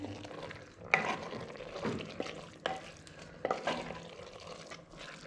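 Boiled lentils being stirred into a kabab mixture, a spoon scraping and knocking against the pot in a few distinct strokes over a faint background sizzle, quiet and close, with no one speaking.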